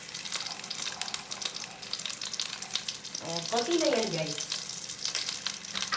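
A splash of hot water poured into a sizzling pan for a small amount of broth, hissing and bubbling steadily as it comes to a boil, with someone speaking briefly over it.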